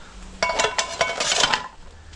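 A damaged non-stick frying pan clanks and rattles against other cookware in a short burst of several knocks, close by.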